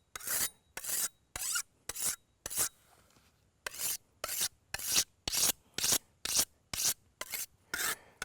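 A knife blade is drawn across the coarse side of a sharpener in about a dozen loud, close, rasping strokes, evenly spaced with one brief pause partway through.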